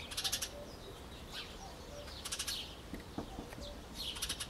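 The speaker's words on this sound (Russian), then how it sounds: "Какие-то птички нам поют." Small birds chirp outdoors on an overcast morning in a garden with roses, several bursts of high twittering trills spaced apart over soft ambient noise, moderately near.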